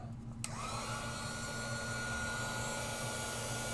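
An embossing heat tool clicks on after a brief quiet moment, then blows with a steady, close whooshing roar until the end.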